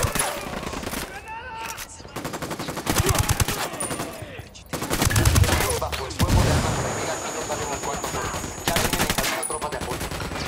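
Rapid automatic gunfire from a military shooter set in Bolivia, with dense bursts and sustained volleys that come and go at close range, mixed with game voices calling out over the shooting.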